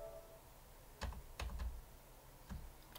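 A new computer keyboard bought for a PS4 gets a few separate button presses: sharp plastic clicks in small clusters with pauses between them, close and quiet, in an otherwise still room.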